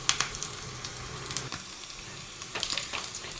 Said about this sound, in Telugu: ఇప్పుడు తాలింపు పూర్తిగా వేగిపోయింది.